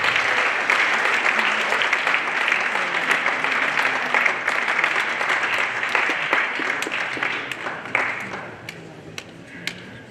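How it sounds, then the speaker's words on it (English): Audience applause at a high school aviation careers talk, a dense wash of clapping from many hands that carries on steadily for several seconds, then thins out and tapers toward the end. "Let's give these people a round of applause"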